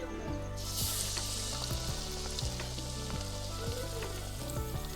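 Pakoras deep-frying in hot oil make a dense, continuous sizzle and bubbling that swells louder after a moment, heard up close, steady and alone without any voices.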